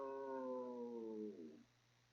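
Several dogs howl together in a sustained, wavering chorus that holds steady and then trails off, fairly close and loud, with no talking over it.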